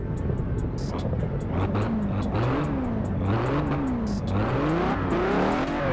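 A car in Forza Horizon 4, fitted with steel wheels, cranks over and its engine revs loudly and continuously, the pitch climbing and falling in repeated surges.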